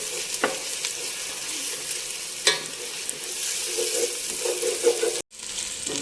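Ginger garlic paste fries in a pan for a Chanduva fish curry, giving a steady close sizzle with a few stirring scrapes and a brief cut-out near the end.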